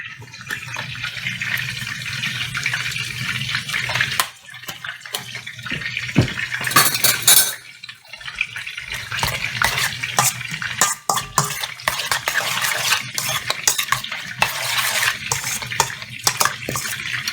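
Cucumber salad being stirred together with sour cream and heavy whipping cream, a steady wet churning and scraping close by, with brief pauses between bursts of mixing and no talk.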